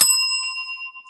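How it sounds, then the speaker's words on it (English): A small bell is struck once, giving a bright, sharp ding that rings on and fades slowly, close and alone. "I'll give you a bell for that."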